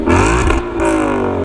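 Ford Mustang GT on its stock exhaust revving: two close, loud throttle blips with a rising, harmonic-rich growl, a short dip between them, then an abrupt cutoff.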